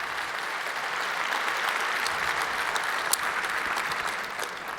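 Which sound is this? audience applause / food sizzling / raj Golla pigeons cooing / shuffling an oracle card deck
audience applause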